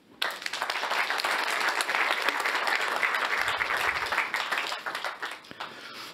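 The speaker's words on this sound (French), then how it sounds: "on peut applaudir Benoît" An audience at a fintech club event applauds a guest, the CEO of Boursorama, with dense, sustained clapping that holds steady for several seconds, then thins and tapers off near the end.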